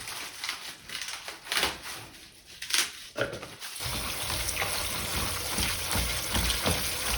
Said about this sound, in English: The first thing to do is to rinse the scarola.